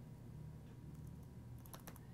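Password being typed on a computer keyboard, a short burst of several quick key clicks near the end, faint over a low steady hum.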